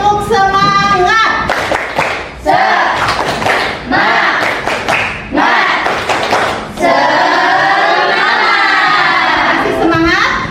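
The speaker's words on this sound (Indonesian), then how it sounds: "Tepuk semangat." A classroom of students claps hands in quick rhythmic bursts separated by short pauses, loud and close, with a teacher's voice and some chanting between the rounds.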